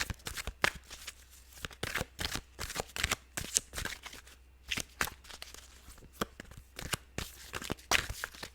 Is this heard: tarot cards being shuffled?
yes